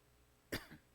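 In a church congregation during a Wednesday service, a single sharp cough bursts out against quiet room tone, followed by a softer second cough trailing off.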